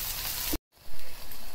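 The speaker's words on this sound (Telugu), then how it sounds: "సిమ్లో పెట్టుకొని ఒక 5 నిమిషాలు ఆయిల్లో మగ్గించుకోవాలి" Tender tamarind leaves cooking in oil on a low simmer, a loud, dense sizzling hiss broken by a brief cut-out of silence before the frying resumes.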